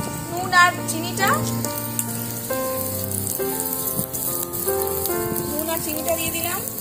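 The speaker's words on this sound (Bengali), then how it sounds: "এখানে আমাদের ফুলকপি ভাজাটা বসিয়ে দিয়েছি" Cauliflower sizzles in a miniature pan with a steady, rain-like crackle. Sustained music and an occasional background voice play over it.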